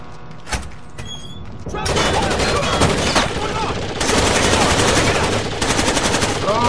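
Sustained automatic fire from an MG36 light machine gun in Rainbow Six Vegas 2, loud rapid bursts with booms filling most of the stretch, starting after a quieter opening.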